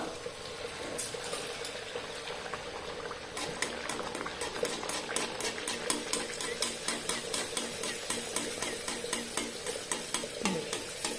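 Wheat-flour beetroot puris frying in hot coconut oil, a steady bubbling sizzle that turns into rapid, rhythmic spluttering as oil is splashed over the dough.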